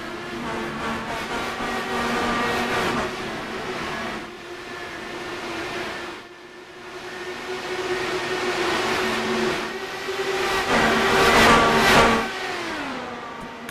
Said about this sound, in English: Cars build up speed and thunder their way down into turn 3 and 4.